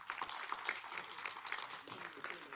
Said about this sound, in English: the leadership of the province deserves a round of applause for that one